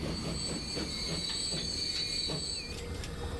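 A train running in the video game Transport Fever, with a steady rolling rumble, rhythmic clickety-clack of wheels and a high, sustained wheel squeal throughout, loud and close with no talking.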